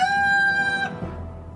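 A chicken gives a single sustained, high squawking call lasting under a second, close and clear with nothing else around it.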